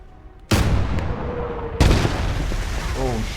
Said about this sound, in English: We got an artillery duel. That one. Drop a shell on him.